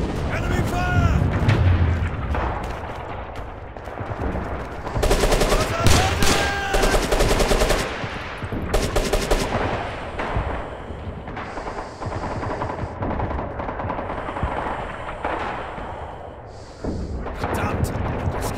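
Red Orchestra 2 battle on Omaha Beach, dense gunfire, machine-gun bursts and booming artillery, loud and chaotic throughout, with shouted voices mixed in.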